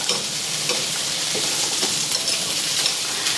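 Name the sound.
chickpeas, sweet corn and vegetables frying in a pan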